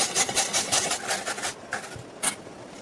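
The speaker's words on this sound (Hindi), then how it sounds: "अभी हम इसे कद्दूकस कर लेंगे।" Two medium peeled raw potatoes are rubbed against a kitchen grater, giving a run of rhythmic rasping scrapes that slow and thin out toward the end, close and moderately loud with no talk.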